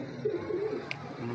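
Pigeons in a fancier's loft cooing softly, a few low murmuring coos close by over quiet background noise with a brief high chirp.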